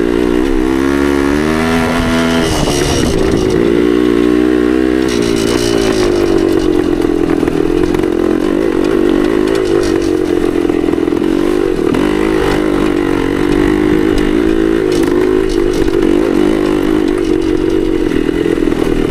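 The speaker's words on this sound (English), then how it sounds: "Keep bumping that Kickstarter. You hear that ratchet sound, that's what that is." A 1972 Yamaha DT2 enduro motorcycle engine runs loud and continuously, with its pitch rising and falling and some mechanical clatter mixed in.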